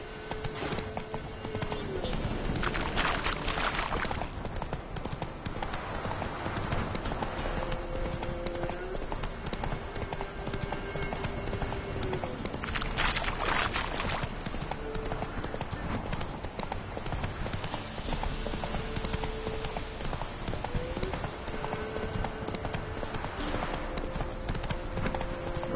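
Horse hooves clip-clop steadily in a video game on PS4, a continuous rhythmic trot running the whole way under game music and occasional voices.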